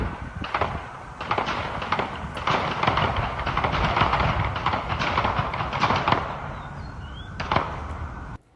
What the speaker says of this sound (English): That volley of gunfire that you hear in that video